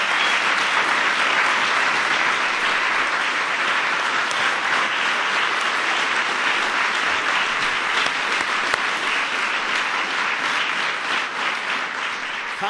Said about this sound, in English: everybody give Kyle a big round of applause